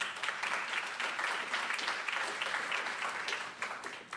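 Applause from an awards ceremony audience honouring home-based business nominees, fairly faint but continuous clapping from a crowd that tapers off near the end.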